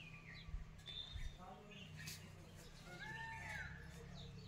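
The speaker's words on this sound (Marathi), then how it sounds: "मोराचा आवाज, मोर पाहिले" A peacock calls in a quiet village, its rising, wailing cries faint and distant over soft background noise and scattered chirps from other birds.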